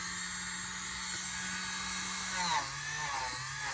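Dremel rotary tool polishing a sterling silver ring: a steady, fairly quiet high whine that holds level, then dips slightly in pitch near the end as the tool bears on the metal.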